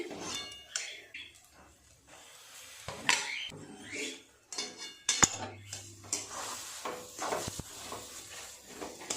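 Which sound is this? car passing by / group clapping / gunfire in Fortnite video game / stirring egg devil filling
stirring egg devil filling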